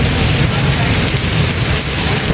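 Steady rain falling outdoors with a cool breeze, a dense, loud wash of hiss and patter close by, continuous and unbroken.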